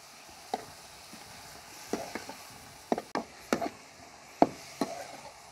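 Tomato and green chilli masala fries in a pan while a spoon stirs it, soft steady sizzling broken by scattered scraping and knocking strokes, close but fairly quiet, with no talk.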